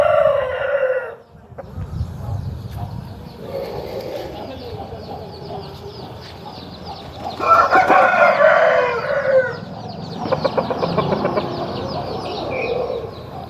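A Pala Abrash rooster, a big, double-bodied Bhimavaram-type cock, crows loudly and close by in repeated calls, with clucking and other farmyard fowl sounds in between.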